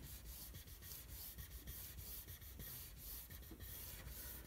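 Thick cardstock is scored along a groove on a homemade score board, making a quiet, steady rubbing and scraping with rhythmic strokes, close and alone.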